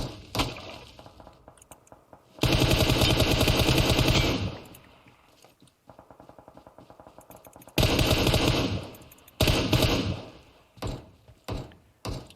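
Bursts of automatic gunfire in PUBG Mobile, loud rapid strings of shots separated by short pauses, followed by a few single cracks near the end, with no talk.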